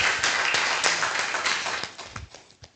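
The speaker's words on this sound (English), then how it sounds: "can we please clap for our Prof?" An audience claps for a professor at an academic plenary session, a dense burst of applause from many hands that gradually thins and tapers toward scattered final claps.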